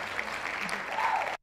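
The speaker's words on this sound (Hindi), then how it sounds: "दिख रही है आपको ताली" An audience claps at a spiritual gathering, a brief stretch of continuous, moderately loud applause that cuts off abruptly at the end.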